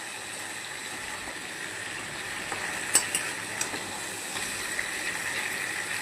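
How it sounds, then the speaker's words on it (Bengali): A large katla fish head, over a kilo, frying in oil for muri ghonto, with a continuous crackling sizzle and a few sharp spits and pops midway, heard close with no talk. "তো প্রথমে মাথাটা ভেজে নিচ্ছি"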